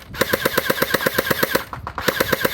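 A Lehui Kriss Vector V1 gel blaster fires in a fast, steady full-auto burst, rapid evenly spaced cracking shots carrying on for over two seconds with one brief pause, loud and close.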